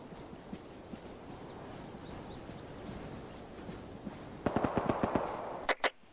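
Gunfire from the northwest rings out during an air assault group's foot patrol, a handful of sharp distant cracks in quick succession over steady outdoor background noise, ending with two louder reports.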